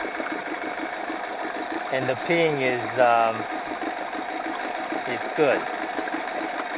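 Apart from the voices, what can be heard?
Honda 8 hp four-stroke outboard motor idling faster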